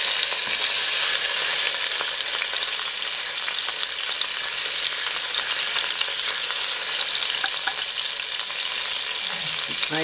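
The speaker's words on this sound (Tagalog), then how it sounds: "Fried po natin ang fish ha." Dorade fish pieces frying in hot oil in a pan, giving a dense, continuous sizzle and crackle that stays at an even level throughout with no talking.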